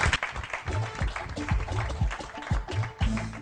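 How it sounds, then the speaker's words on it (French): Studio audience applauding on a French celebrity game show as a guest is called to the table, steady clapping with tonal music or voices layered over it, fairly loud throughout. "Applaudissements."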